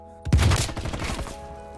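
Bullfrog SMG with the Mayan Mastercraft finish in Call of Duty Cold War, one loud close burst of rapid fire that rolls into a short decaying tail.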